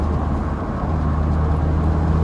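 An Audi TT RS 8J with a six-speed manual gearbox, high mileage, driving steadily with a continuous low engine and road drone heard from inside the car, no talk.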